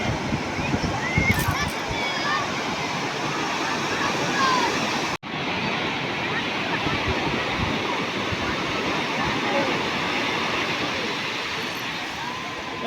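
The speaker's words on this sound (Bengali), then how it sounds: "বিশাল বড় ঢেউ আসছে।" Big sea waves crashing continuously on crowded Puri beach under hot sun, a loud broadband roar of surf with a brief cut midway.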